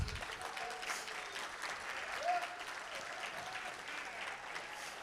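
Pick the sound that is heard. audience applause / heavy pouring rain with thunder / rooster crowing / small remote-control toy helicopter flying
audience applause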